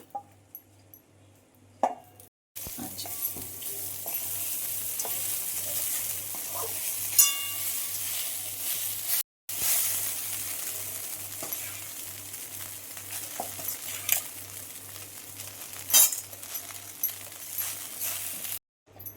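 Roasted rice flakes are added bit by bit to a pan and stirred, giving a dry rustling sizzle with occasional light plops and clinks of the spoon against metal, no talking.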